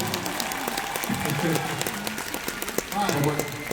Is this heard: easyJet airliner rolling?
no